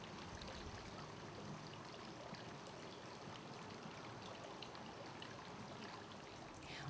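Water poured over a container-grown Lysimachia in a pot, a steady close trickling and splashing that runs unbroken and fairly soft throughout.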